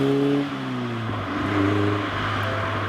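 A 1973 Alfa Romeo GTB exhaust gives a low, rumbling burble that rises and falls slightly as the engine runs, steady and close without any talk.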